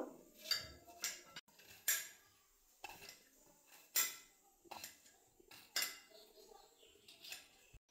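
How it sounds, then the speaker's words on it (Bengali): A knife chops onions on a board for a Bengali pangas fish curry, a series of sharp, close taps in irregular bursts separated by short pauses, with no one speaking. "তো পেঁয়াজগুলো আমি কেটে নেব।"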